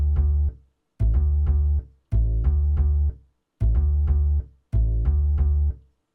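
A deep, heavy bass line from a sampled hip-hop beat plays alone in five repeating phrases, each a booming low riff broken by short gaps.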